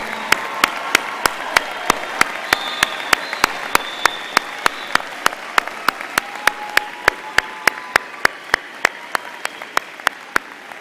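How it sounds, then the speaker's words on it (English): Audience applause fills a medical school commencement ceremony hall, a steady dense wash of clapping that holds for about eleven seconds, loud and close, slowly easing slightly toward the end. "Turn around and show your appreciation through your applause."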